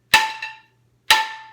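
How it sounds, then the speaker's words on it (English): Two separate ringing metallic strikes of a metal spoon against a metal pot, each bright and resonant with a long decaying tail, the first followed by a softer quick rebound hit. "This with a metal spoon in the metal pot"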